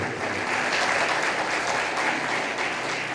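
A congregation at a sermon bursts into loud, sustained clapping that fills the space, dense and even throughout, with no voices over it.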